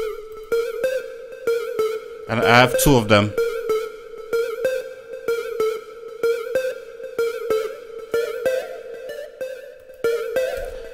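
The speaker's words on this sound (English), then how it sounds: "Right, so the first instrument is the synth." Synthesizer part in an FL Studio remake of a reggae song, a steady plucky synth pattern repeating in a bouncy rhythm, with a brief louder swelling burst early on and someone speaking over it.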